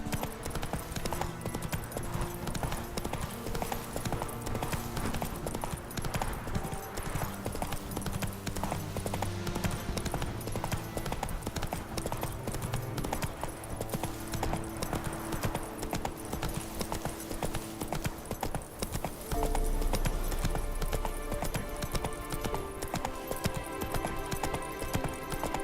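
Hooves of Roach, the horse from The Witcher 3 video game, clip-clopping steadily and continuously throughout over a dense background of music and ambience, with a brief neigh possible near the end.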